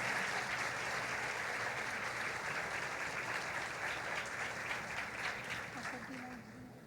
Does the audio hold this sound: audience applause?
yes